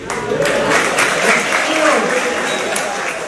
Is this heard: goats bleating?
no